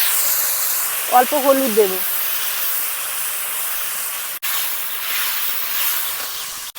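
Watery mustard paste poured into a hot pan of pumpkin pieces for a Medinipur-style rohu fish and green mango tok, giving a steady broadband hiss that runs the whole time, with a short stretch of speech early on.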